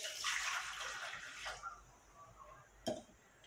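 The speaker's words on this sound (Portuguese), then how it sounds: "Eu vou estar adicionando aqui no liquidificador" Water poured into a blender jar while making creamy ice pops, a brief bright splashing and trickling that tapers off, followed by a small clink near the end, close and fairly quiet with no talking.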